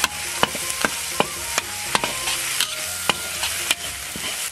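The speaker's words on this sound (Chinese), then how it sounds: "炒到微微发黄，来点辣椒面，炒出香味，放上番茄酱" Chili flakes and sauces stir-fried on a teppanyaki griddle, metal spatula strikes clanking in a regular rhythm over a steady close sizzle.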